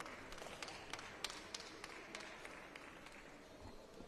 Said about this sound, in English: As the teams applaud each other.